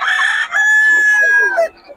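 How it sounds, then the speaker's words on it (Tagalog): A gamefarm rooster at a cockfighting-bird gathering crows loudly and close, a short opening note followed by a long sustained cock-a-doodle-doo that drops off sharply. "Ang gaganda ng mga manok ni Boss Gaga mga idol."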